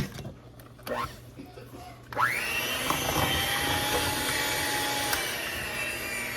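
An electric mixer starts up and runs with a steady whirring drone, beating sour cream sugar cookie dough; a few clinks and rustles come just before the motor kicks in.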